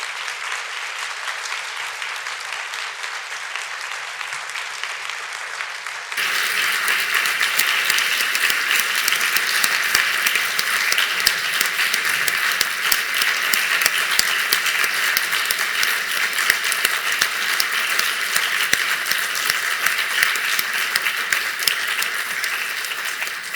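Long, sustained applause from a large audience after a science talk at a women-in-science event, starting at a steady level and then swelling louder and denser, continuing without a break.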